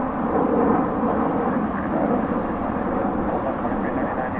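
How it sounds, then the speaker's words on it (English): A Boeing 747-428F cargo jet at DFW Airport gives off a broad, steady rumbling roar, loud and sustained, with faint higher tones drifting over it. "This particular aircraft is 28 years old, a Boeing 747-428F."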